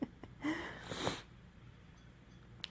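A single close sneeze with a sharp, breathy burst and a short snort, followed by quiet breathing in a still room.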